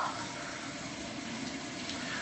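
Warm tap water runs steadily for a face rinse after shaving, a continuous close splashing flow with no talk over it.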